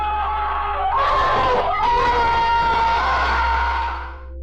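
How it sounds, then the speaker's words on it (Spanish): A small child screams in the night, a loud, sustained, wavering shriek that rises sharply partway through and fades at the end, heard alone. "en medio de la noche se escucharon unos gritos horripilantes"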